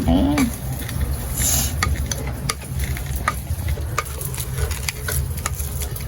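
Cooked plantain is mashed in a pan, with scraping and clinking of a spoon against the metal and a soft sizzle underneath, steady and close with faint talk in the background.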